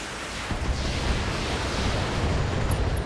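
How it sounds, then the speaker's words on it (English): An ammo explosion destroys a mech in the BattleTech video game, a loud, dense, sustained roar of blast noise filling the whole moment with no voices. "Ammo explosion. Mech destroyed."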